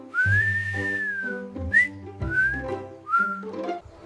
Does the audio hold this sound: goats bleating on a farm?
no